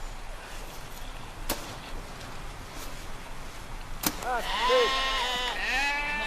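A herd of sheep caught in a heavy snowstorm bleats in several overlapping calls toward the end, preceded by two sharp whip-like cracks over a faint windy background.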